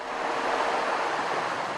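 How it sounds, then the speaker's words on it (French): Sea waves wash over a pebble beach on the Normandy coast, a steady, broad rushing wash that is loud and continuous, with no voices. "vous n'entendez rien d'autre que la mer"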